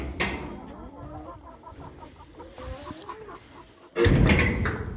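Hens cluck softly in a series of short calls at close range inside a coop in winter, followed by a louder rustling burst near the end.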